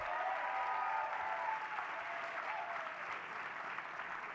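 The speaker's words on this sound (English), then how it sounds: "let's give Jeremy McClellan another round of applause" A crowd at a libertarian conference panel applauds a comedian, a steady dense wash of clapping that holds for several seconds before tapering slightly.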